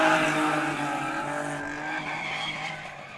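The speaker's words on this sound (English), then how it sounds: "that's a really tight 350Z tandem there" Two Nissan 350Z drift cars run in close tandem on a track, their engines roaring and tires squealing in a loud, continuous blur that slowly fades.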